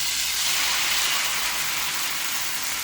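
Dosa batter for a fasting-day dosa hits a well-heated griddle, giving a steady, loud broadband sizzle and hiss that holds evenly throughout with no talk.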